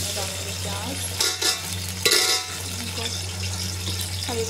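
Onions sizzle in hot oil for a potato rice dish, a steady loud frying hiss broken by a few louder bursts of crackle and stirring, with no voices.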